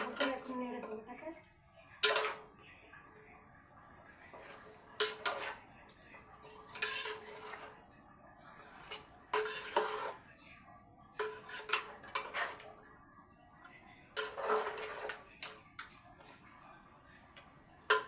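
Food is stirred in a pot after oil has been added, giving intermittent clinks and scrapes of a metal spoon against cookware in short bursts separated by quiet pauses, fairly close and moderately loud.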